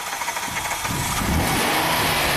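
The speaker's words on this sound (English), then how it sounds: "go ahead, start it up. Give it some gas." A Hyundai car engine cranks and catches, then settles into a loud, rough running note that rises as the throttle is pressed, close by and with no voices.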